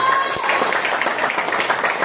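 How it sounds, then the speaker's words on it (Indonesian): Audience applause at a business presentation, brisk continuous clapping from a crowd, close and fairly loud, with some voice mixed in for the short span. "Tepuk tangan di BTS"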